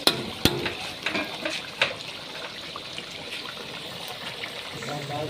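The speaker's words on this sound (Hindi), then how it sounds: "ज़ीरा डाल के हमने अच्छे से इसकी भुनाई करनी है।" Chicken karahi, two kilos of chicken with about two tablespoons of cumin, roasting in a pan with a steady low sizzle and occasional stirring scrapes, close and continuous.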